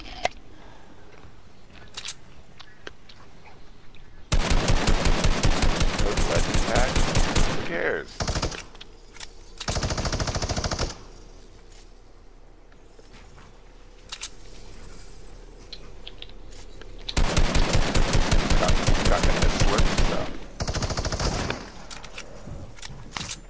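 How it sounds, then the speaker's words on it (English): Video game submachine gun fire in long rapid bursts, loud and close, several sustained volleys separated by quieter stretches with scattered clicks. "I'm gonna light him up with my SMG"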